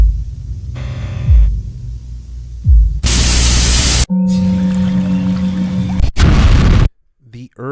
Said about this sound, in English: you don't have to play darn loud white noise